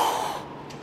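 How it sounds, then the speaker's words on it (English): One forceful, exaggerated exhale through the mouth during an abdominal crunch, close and loud at first and fading within a second. "Now you can really hear my breathing over exaggerated."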